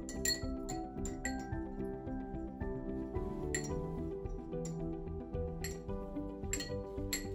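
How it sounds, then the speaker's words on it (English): A spoon stirring salt into water in a cup, as prep for electroetching a metal travel mug: quick, bright clinks against the cup in a steady cluster over a constant tonal background. "go ahead and stir that around"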